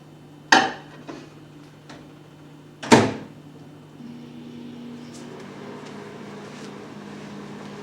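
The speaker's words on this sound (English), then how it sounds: "I am now going to put my Totino's pizza rolls in the microwave for about 3 minutes" A few sharp clunks and clatters like a door shutting and dishes, then a steady low microwave hum begins and continues as frozen pizza rolls heat.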